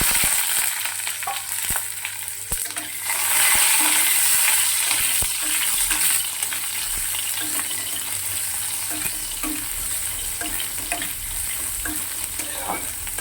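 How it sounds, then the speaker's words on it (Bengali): Small whole eggplants fry in a wok of oil with black cumin seeds, a steady close sizzle and crackle with occasional scrapes of stirring, growing louder for a few seconds midway before settling back to an even hiss. "কড়াই তেল দিয়ে দিয়েছি, কালো জিরে ফোড়ন দিলাম, আর ছোট ছোট কয়েকটা বেগুন নিয়ে নিলাম।"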